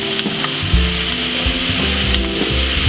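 Two kilos of prawns are stirred in a pot of frying curry, giving a loud, constant sizzle with scraping and knocking stir strokes, close up.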